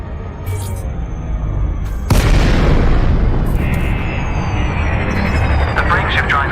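A spaceship's frame shift drive disengaging in the Elite Dangerous video game, heard as a loud booming release that becomes a sustained broad rumble with tonal whines, under a calm narrated voice.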